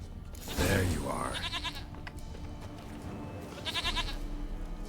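A goat bleats in The Witcher 3, with a wavering cry near the start and a second shorter bleat later, over a rustling ambient game backdrop with mechanical rattles.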